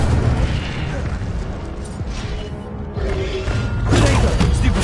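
Incendio fire spell cast in Hogwarts Legacy on PS5, loud whooshing fiery bursts and booms amid dense combat effects, with voices shouting.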